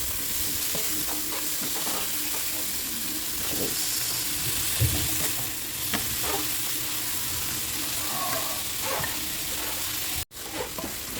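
Pork and upo gourd sizzle in a pan while being stirred, with steady frying hiss close by and scattered scraping stir strokes throughout, no talking.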